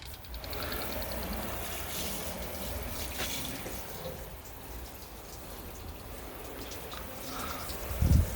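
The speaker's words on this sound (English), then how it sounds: "so now just time to hose it off" A water hose rinses down a van's bumper, giving a steady, fairly loud spray and splash that runs unbroken the whole time, with a brief heavier knock right at the end.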